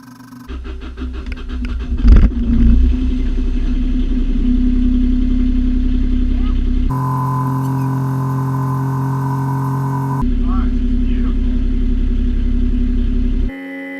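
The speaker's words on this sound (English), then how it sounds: "So engine is on and Gregory is about to take" A sailboat's engine runs steadily nearby, a loud continuous low droning rumble that holds throughout, with a brief sharper burst near the start and a shift in tone partway through before it settles again.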